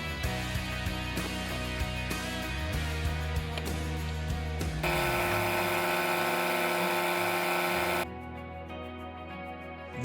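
An Etenwolf Vortex S7 portable air compressor runs outdoors in a forest, a steady motorized whine and hum that shifts pitch and loudness partway through, close and alone without talk.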